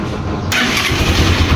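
A Honda TMX 125 motorcycle push-started, its engine catching abruptly and settling into a loud, steady close-up idle.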